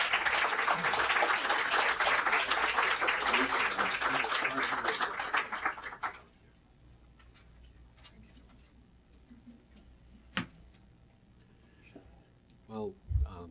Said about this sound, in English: if you would, an applause to welcome all of our guests